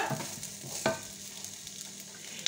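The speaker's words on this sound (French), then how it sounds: "démarrer la cuisson pour mes oignons et mon ail" Chopped onion and garlic going into a hot pan, a soft crackle of frying with a few stirring scrapes and one sharper clatter, fairly quiet and close with no talk.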